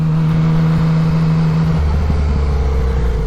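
Yamaha MT-09 motorcycle on a ride from Weymouth to Portland Bill, its engine droning loud and steady close by, with the pitch shifting down partway through under heavy wind rumble.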